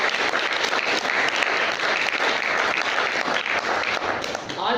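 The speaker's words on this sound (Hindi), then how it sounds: "आप भी तालियों के साथ उनका आभार प्रकट कर सकते हैं।" A gathering at a health training session gives a warm round of applause for its core leaders, a thick, even burst of many people clapping that fills the room for about five seconds.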